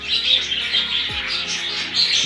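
African lovebirds chirping close by in a steady, busy stream of high, shrill tweets, with a few softer calls and a faint thump underneath.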